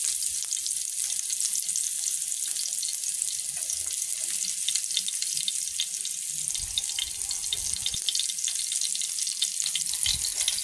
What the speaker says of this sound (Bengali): পেঁয়াজ রসুন দেওয়ার পরে সেগুলো ভেজে নিব